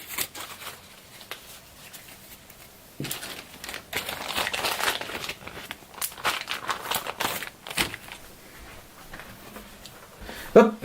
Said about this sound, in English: Bag up the cards again.